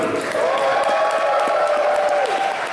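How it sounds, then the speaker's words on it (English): Audience applause fills a convention panel room at Power Morphicon 2016, a dense steady wash of clapping and some cheering from a large crowd, holding at an even level throughout. "we're gonna get some applause in order to see how some of these sounded"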